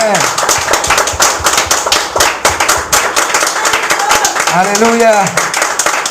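A church congregation claps loudly and steadily in worship, a dense rapid run of hand claps throughout, with a voice calling out over it near the end.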